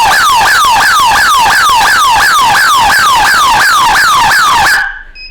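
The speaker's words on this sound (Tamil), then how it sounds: "இந்த மாதிரி உங்களுக்கு சைரன் நல்ல சைரன் கொடுக்கும்." An electric fence alarm machine blares a loud, rapid rising-and-falling siren wail, about two cycles per second, before cutting off abruptly near the end.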